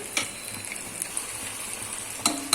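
Chicken frying with onions and ginger-garlic paste for biryani gives a soft, steady sizzle, broken by a few sharp scrapes and clinks of a spoon against the pan.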